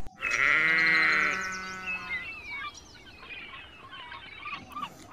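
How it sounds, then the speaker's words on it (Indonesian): A single loud, wavering goat bleat up close, lasting about two seconds, followed by quieter rustling and faint background noise. "Ternyata ini kambing."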